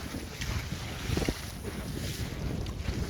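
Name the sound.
wind while wind winging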